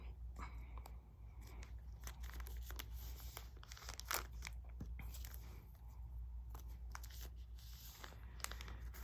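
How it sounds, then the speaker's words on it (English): Trading cards are slid into plastic binder sleeves, giving soft crinkling and scraping rustles with sharp clicks and taps, close and fairly quiet, with no talking. "we're just going to stick these cards in and hope for the best"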